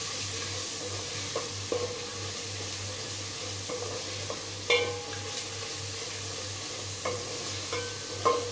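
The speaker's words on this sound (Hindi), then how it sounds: "मसाला हमारा बस थोड़ा सा ही और भूनेंगे," Masala for aloo gobi curry fries in a pan with a quiet, steady sizzle, broken by occasional light spoon scrapes and taps, with no talking.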